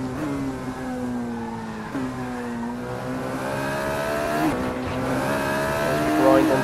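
A Formula Renault 3.5 open-wheel race car in the Assetto Corsa racing simulator at Sepang, Malaysia, with a steady, loud engine drone whose pitch climbs and dips through gear changes over the lap.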